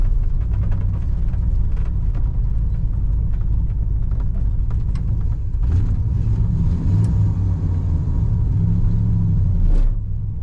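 A 1989 Oldsmobile Custom Cruiser wagon with a blown brake line runs while shifted into reverse, a steady low engine rumble close by with a slight rise in load partway through and a few light clicks, no talk.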